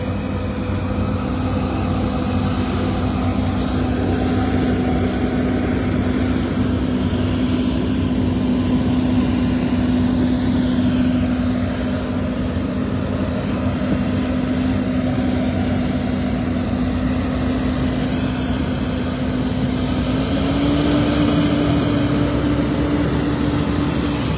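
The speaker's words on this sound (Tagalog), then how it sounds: "Ito yung puno na dump truck oh." A loaded dump truck runs at a sugarcane harvest, its diesel engine holding a steady low drone near the listener for over twenty seconds, with a slight rise in pitch toward the end.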